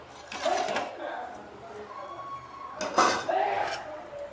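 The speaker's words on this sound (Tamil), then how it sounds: "நல்லா இந்த பூண்டை மசிச்சு விடுங்க" Garlic being mashed in a pot of manathakkali greens dal, scraping and clinking metal in two bursts, near and moderately loud, with a quieter stretch between.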